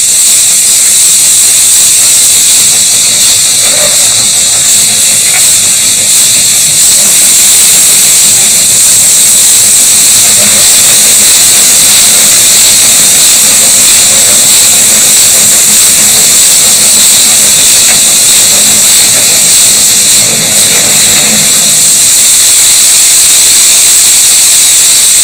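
The King Edward I steam locomotive works hard uphill, a steady loud roar of hissing steam with faint rhythmic chuffing beneath, continuous for the whole stretch.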